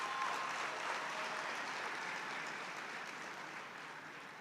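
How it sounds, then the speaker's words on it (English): Steady applause from a crowd at a university graduation ceremony, a dense wash of clapping that holds evenly and fades slightly toward the end. "Can we please applaud our Vice-Chancellor?"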